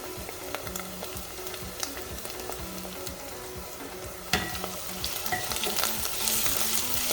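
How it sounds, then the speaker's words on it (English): Ground meat with onions and garlic frying in a pan for a Sudanese yogurt stew, a steady close sizzle with scattered crackles and a few louder spatters and scrapes toward the end. "we want our meat to get fried, our meat and onions to fry really well and kind of dry out"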